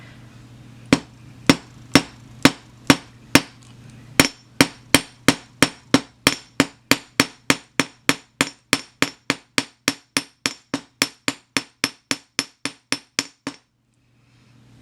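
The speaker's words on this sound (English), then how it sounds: "I'm going to hammer, and every time I hammer, I'm going to go that way, to the side" Metal hammer striking wire to flatten it for handmade wirework earrings, about thirty sharp, evenly spaced taps that speed into a steady rhythm, close and loud with no talking.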